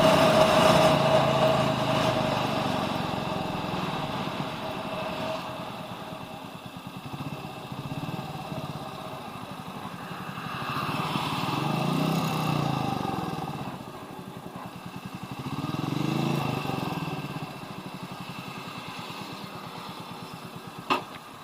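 A Royal Enfield Meteor 350 motorcycle exhaust idles with a steady thumping note, then revs twice in long swelling waves before settling back. The bike is loud and close, with no talk.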